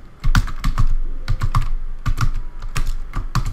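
Rapid typing of code on a computer keyboard, with crisp, close key clicks in uneven bursts and short pauses, loud and alone with no voices.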